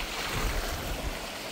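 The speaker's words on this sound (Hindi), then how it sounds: "पानी जो पूरा रोड में आ चुका है" Flood water spreading across a road in Arunachal Pradesh churns with a continuous broad rushing wash, close and fairly loud, with low rumbling surges and a wind-like hiss throughout.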